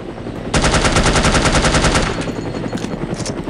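Rapid machine-gun fire aimed at a helicopter in The Operative: No One Lives Forever, a loud sustained burst of closely spaced shots lasting about a second and a half, then a fainter ragged tail of further fire.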